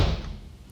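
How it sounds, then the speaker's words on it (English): A single heavy foot stomp on a floor, a deep thud at the start that fades quickly, recorded close with no talking, sampled for a keyboard. "that's the sound of me really stomping on the floor"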